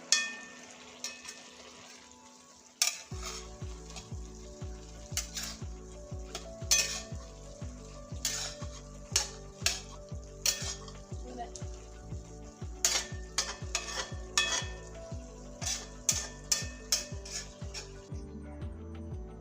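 Food stirred in a pan on low heat makes a regular, repeating scrape with occasional clinks over a soft, continuous background, close and moderately quiet.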